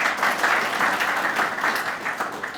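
A crowd at a ribbon-cutting ceremony at 50 Rector Street claps for the council members, a close, dense burst of steady applause without talk that eases slightly toward the end.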